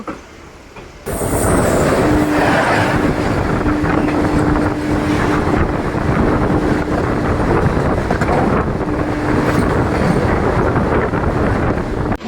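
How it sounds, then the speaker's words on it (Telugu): Falaknuma Express passenger train running near Kovvur, a loud steady rumble with strong wind buffeting throughout, starting abruptly after a quieter opening second, with a faint tonal hum from the rails at times. "మన ట్రైన్ వచ్చేసి కొవ్వూరు అయితే వచ్చేసిందండి."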